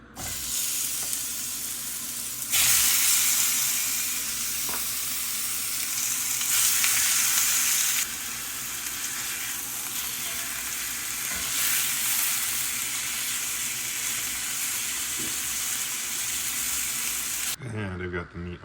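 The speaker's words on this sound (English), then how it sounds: "sear your meat." Cubed pork searing in a hot pan for stew, a loud continuous sizzle and hiss with brief bursts of stirring, close up, ending in a clatter.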